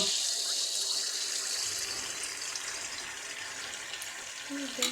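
Raw rice batter hits hot oil over a full high flame and sizzles with a steady, fairly loud crackling hiss that holds throughout.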